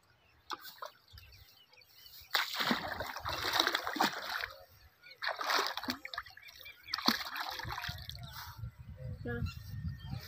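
Irrigation water runs into a crop field behind a freshly tied earthen bund, with splashing, bursts of flowing water and drips, close and moderately loud, under intermittent speech.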